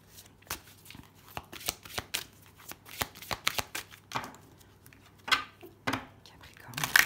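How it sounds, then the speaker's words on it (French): Six tarot cards being laid out on a table, a string of crisp, close card snaps and slides at an irregular rhythm, with soft quiet speech murmured between them. "Allez, on pose les 6 cartes."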